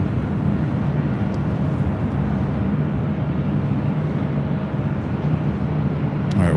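An airliner arriving on the north side of LAX produces a steady, continuous broadband roar that holds at an even level throughout, with no talk.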